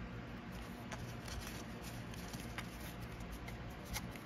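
Cards from the Dead of Winter board game being handled while unboxing: soft, close, continuous papery shuffling and light tapping at low volume with no talk.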